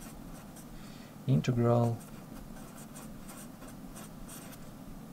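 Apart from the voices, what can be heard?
writing notes by hand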